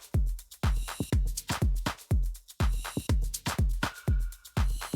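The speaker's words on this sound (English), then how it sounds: "and then the wood block comes more in the middle" Afro house drum groove with a wood block hitting in the middle of each phrase: sharp, dry percussive hits repeating in a steady rhythm over kick and other drums, loud and close with no talking.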